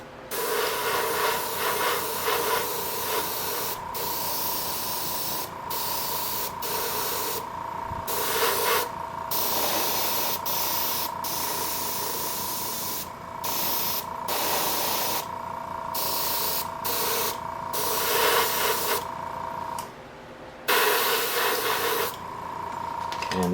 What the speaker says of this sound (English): Just a little test spray there.